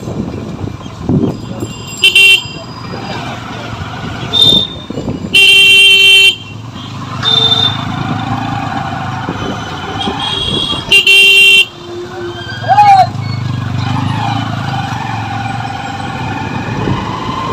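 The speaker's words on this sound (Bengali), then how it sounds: "এখানে হর্ন মারতে মারতে দিন কভার হয়ে যাবে" On a small village market road beside a canal, at dusk in rain, vehicle horns blare loudly again and again: short toots and longer blasts over a constant traffic rumble.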